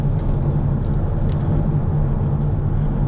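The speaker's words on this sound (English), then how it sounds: "For a diesel it sounds alright as well, to be fair." The diesel engine of a 2015 Audi TT hums in a steady, low rumble from inside the cabin while driving, with road noise and no change in pitch.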